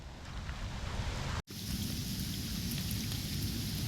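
Steady rain falls by the Des Plaines River in July, a dense, even hiss of drops close by with a low rumbling undertone and a brief dropout partway through, with no voices.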